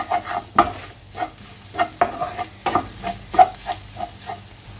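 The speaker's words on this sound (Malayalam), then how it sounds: "ഇനി ഇതിലേക്ക് 2 പച്ചമുളക് ഇതുപോലെ വട്ടത്തിൽ അരിഞ്ഞ് കൂടി ചേർത്ത് കൊടുക്കാം. നന്നായിട്ട് മിക്സ് ചെയ്യാം." Sliced green chillies are stirred into a sizzling egg masala in a pan, with a steady frying hiss and repeated scraping strokes of the spoon about every half second, close up and without talk.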